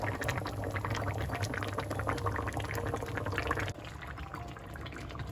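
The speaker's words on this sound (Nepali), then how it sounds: "अब यो बगबग उम्लिएर आयो" Mustard fish curry boils steadily in the pot, a dense continuous bubbling and spluttering that stays loud and close, then eases slightly partway through, with no voices.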